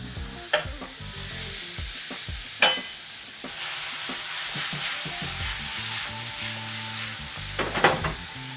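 Beef stir fry sizzles steadily in a hot pan with oyster sauce and fish sauce, a loud, continuous frying hiss broken by occasional sharp clinks and scrapes of a utensil against the pan.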